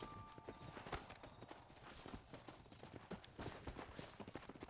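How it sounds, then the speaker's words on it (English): Rhythmic clip-clop of horse hooves trotting at a steady pace in the video game Red Dead Redemption 2, fairly close and continuous, with light background game sounds. "My horse."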